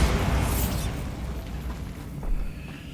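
Bombarda spell detonating in the video game Hogwarts Legacy: a loud, close explosion with a sharp start that decays into a long rumble, followed by a second smaller swell of blast noise near the end.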